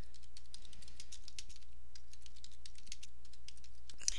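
Quick, light keystrokes on a computer keyboard patter in a continuous run as a short post is typed, close and clear over a low steady hum.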